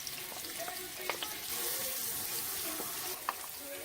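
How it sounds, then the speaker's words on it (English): Onions, scallions and garlic with vegetables stir-frying in olive oil on a stove, a continuous close sizzle with occasional scraping and stirring taps. "Salt for taste is definitely needed when you're stir frying these vegetables"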